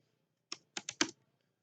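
Four quick keystrokes on a computer keyboard while entering a router configuration command, close and clear in a quiet room.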